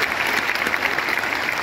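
A concert crowd applauds at a show, a dense, steady wash of clapping close and loud throughout, with no voices over it.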